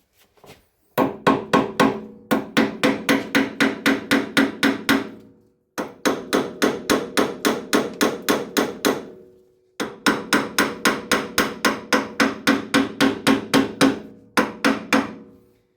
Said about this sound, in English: a little hammer.